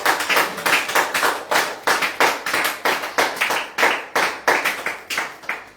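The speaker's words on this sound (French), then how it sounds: "Nous applaudissons le roi de gloire." A church congregation claps together in a steady rhythmic beat of about three claps per second, loud and close, with no voices over it.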